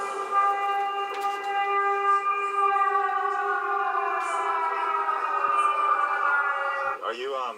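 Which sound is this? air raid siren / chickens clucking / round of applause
air raid siren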